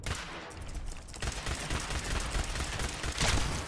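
Gunfire in Fallout 4 Far Harbor, a sustained volley of overlapping shots and blasts, moderately loud and continuous, with a heavier burst toward the end and no talk.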